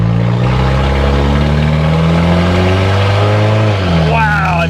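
Car engine accelerating on a road, loud in-cabin drone with rising then falling tones as revs climb through a gear and briefly drop near the end. The context suggests a vehicle other than the Hyundai Tiburon.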